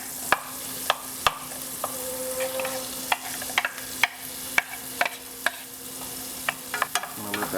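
Onions sautéing in two tablespoons of butter in a pan, an even sizzle broken by repeated sharp clicks and taps of a utensil against the pan, heard alone.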